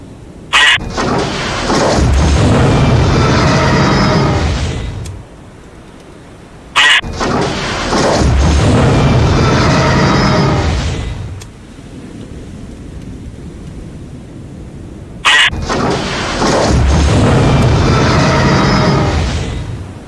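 Vertical launch missiles firing from a submarine in the Cold Waters video game: three loud, roaring broadband launch blasts, each opening with a sharp crack and sustained for several seconds, separated by brief quieter gaps.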